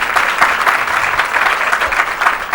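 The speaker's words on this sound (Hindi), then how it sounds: "ताली बजाओ" Close, lively applause from an audience at a children's Geeta satsang gathering, dense clapping that rises and falls in bursts for a couple of seconds with no talk.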